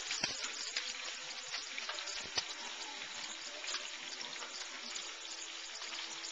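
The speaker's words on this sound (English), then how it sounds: "nice and evenly coated in the oil, and it cooks nice and quickly. Beautiful. Sizzling away." Squid pieces sizzling while frying in hot oil for salt and pepper squid, a steady crackling hiss with scattered sharp pops, close and continuous with no talking.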